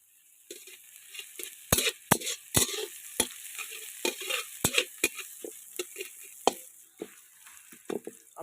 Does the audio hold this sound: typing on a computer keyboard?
no